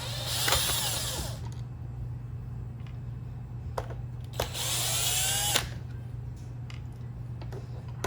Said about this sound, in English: I have taken the handle off mine to put in a drill